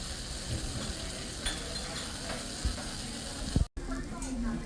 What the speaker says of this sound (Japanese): 鉄板の上でじゅわっと焼ける音と匂い